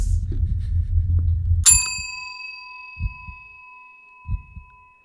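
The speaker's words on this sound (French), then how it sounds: "La sonnette a été sonnée une quatrième fois." Video game doorbell chiming once with a bright, ringing metallic tone that decays slowly, following a low rumbling background; later two soft dull thuds sound in the quiet.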